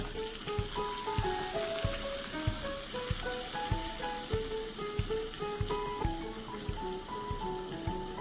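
A tempering of asafoetida and long green chilli pieces sizzles in hot oil for khandvi, a steady hissing crackle with regular light taps under melodic background music.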